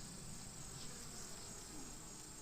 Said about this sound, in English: I've got a mad bee attacking my veil